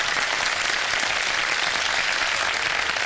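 Studio audience at a Ramadan iftar TV show clapping together, a dense, steady burst of applause lasting a few seconds.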